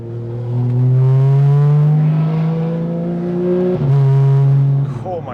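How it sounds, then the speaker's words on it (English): A loud Porsche 991.1 GT3 RS engine roars steadily at close range, its pitch climbing and holding, then dipping briefly before revving up again. "the car was so friggin' loud"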